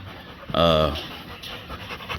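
A male Rottweiler gives a short, close burst of panting, a single breathy huff lasting about half a second against a quiet background.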